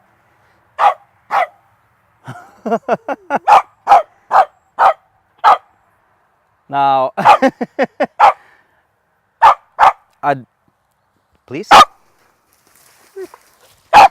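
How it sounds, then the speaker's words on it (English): A dog barks in sharp, loud bursts, some single and some in quick runs with a whiny yelp, close by during a garden harvest of giant potatoes; a person briefly speaks between barks. "I'm sorry about the dog."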